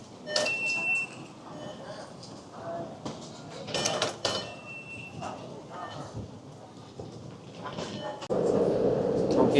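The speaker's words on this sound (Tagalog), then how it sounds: "We're gonna take the MRT." Taipei MRT metro train ride, with a steady rumbling ride noise, rattling of the car and a louder roar building toward the end, while people talk faintly in the background.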